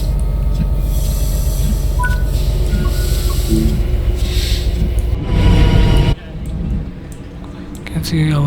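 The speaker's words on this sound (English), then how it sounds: "You can see our complete train is in the station." A Metrolink MP36PH-3C locomotive train sits in a station in Train Sim World 5, with a steady low engine rumble and hum throughout, a brief louder hiss near the end, then quieter mechanical clunks.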